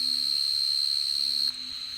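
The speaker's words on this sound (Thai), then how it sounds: "นี่นะครับ เสียงจิ้งหรีดก็จะดังอีดเสียงนี้เลยนะครับ" A cricket calls at night with a continuous high, piercing trill that holds steady and close, then shifts slightly and continues more quietly near the end, with no voices present.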